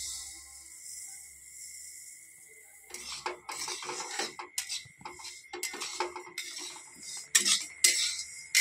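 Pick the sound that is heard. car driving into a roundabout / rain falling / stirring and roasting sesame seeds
stirring and roasting sesame seeds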